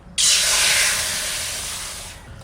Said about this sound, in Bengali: কড়াইতে জল দিচ্ছি